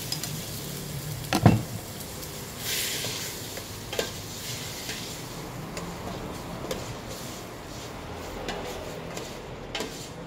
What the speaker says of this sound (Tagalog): Igigisa lang po muna natin ito.